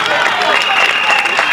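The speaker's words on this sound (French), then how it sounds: "Applaudissez pour eux." An audience claps and applauds at a school excellence awards ceremony in Ndendé, Gabon, a dense, loud, continuous burst of clapping from a large crowd.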